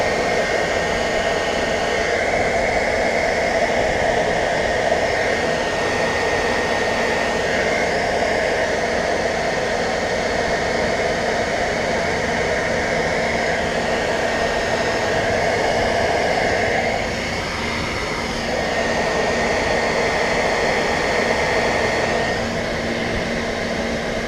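A heat gun blows hot air onto a red tail light overlay on a 2016 Subaru WRX, a loud, steady hissing whoosh that continues with no talking and dips briefly once.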